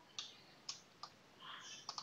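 Sparse keystrokes on a computer keyboard, a few isolated clicks and a short quicker run, faint and close in a quiet room.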